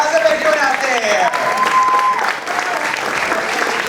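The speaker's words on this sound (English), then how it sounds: "how about a nice round of applause for the host of today's show, Alex Ross." An audience at a live horror make-up show at a theme park applauds the host, steady dense clapping mixed with a few whistles and cheers, loud and close, with no one speaking.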